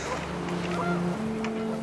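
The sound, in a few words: panicked geese honking in the video game What Remains of Edith Finch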